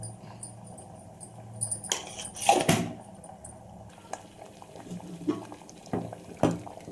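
Dal (lentils) bubbles softly in a pot, a quiet, uneven simmer with occasional louder bloops. A few sharp clanks of utensils or a lid cut in along the way.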